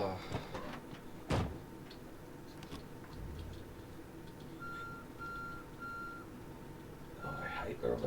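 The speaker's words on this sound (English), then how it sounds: "I hate the reverse beeper on this." A vehicle reversing alarm in the zombie survival game Project Zomboid sounds several evenly spaced electronic beeps over low engine rumble. A sharp clunk comes earlier, and a voice talks faintly in the background.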